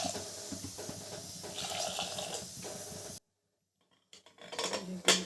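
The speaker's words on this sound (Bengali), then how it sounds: "এখন গরম পানি দিয়ে দেবো" Hot water is poured into a pot of lentils seasoned with onion, turmeric, salt and green chilli, giving a steady, fairly close splashing stream for about three seconds. It stops abruptly, then a few soft clatters of cookware follow.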